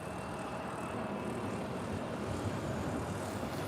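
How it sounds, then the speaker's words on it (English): A Delta Connection Embraer E175LR regional jet takes off from runway 24 left at LAX: a steady, broad engine roar that holds at an even level throughout, with no voices. "That is Delta Connection Flight 3921 heading to Phoenix, Arizona. It's an Embraer E175LR."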